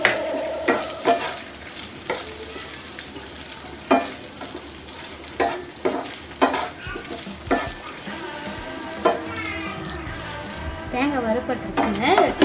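Coconut pieces fry in ghee for green gram payasam, a steady sizzle broken by repeated sharp scrapes and clinks of stirring, with a person talking over much of it.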